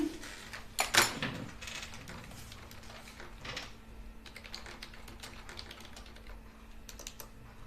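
Quick tapping on a computer keyboard, close and fairly quiet, with an initial cluster of louder clicks and a knock, then irregular light keystrokes continuing over a faint steady hum.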